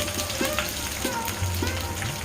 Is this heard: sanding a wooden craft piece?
no